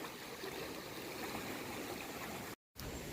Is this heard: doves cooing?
no